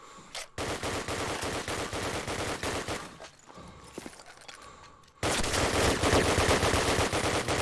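A competitive team shooter match rattles with sustained, rapid automatic gunfire in loud, close bursts. A brief lull gives way to an even heavier, continuous barrage, with no talk.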